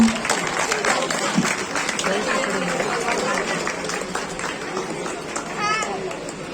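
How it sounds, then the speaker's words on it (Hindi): Loud applause from an audience at a Delhi state mini volleyball championship prize distribution ceremony, dense continuous clapping filling the room and gradually thinning, with voices mixed in. "एक बार जोरदार तालियां उनके नाम से।"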